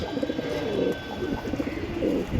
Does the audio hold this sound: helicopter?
no